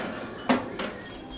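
A metal rack slides into the middle position of a Crux Digital 6-slice air fryer toaster oven, making one sharp metallic clank and then a lighter knock, close by and otherwise quiet.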